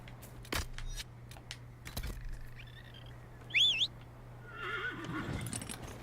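A horse in Dragon Age: Inquisition gives a short whinny midway, preceded by a few soft thuds and clicks, with faint hooves and a low steady hum underneath.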